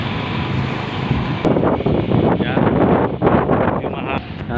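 Wind buffets the microphone of a handheld cellphone outdoors, a loud, steady low rumble with gusty surges, while a voice talks through it.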